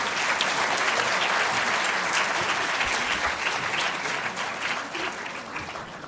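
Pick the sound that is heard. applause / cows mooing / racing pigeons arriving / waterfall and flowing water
applause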